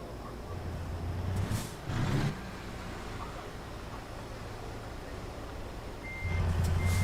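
Truck reversing beeps in a truck driving video game sound as a steady series of electronic beeps over a constant low engine rumble, with a louder burst of engine and air noise midway and again near the end.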